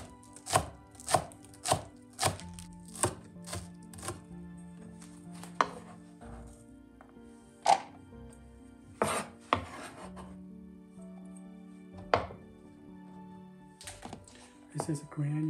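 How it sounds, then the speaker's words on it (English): A knife chops green onion thinly on a cutting board, giving a quick series of crisp close taps, steady at first and then more sparse. A voice talks between the cuts. "we cut the green onion, we cut the root off. Now we just cut it thin."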